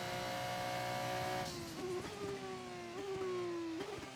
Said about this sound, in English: F2 engine sounds so nice, it's lovely. The turbo sounds awesome.